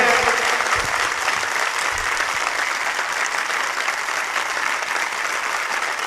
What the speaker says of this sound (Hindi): अब एक ताली उसके लिए जो मुर्दों से जी उठा। Come on, give a big hand.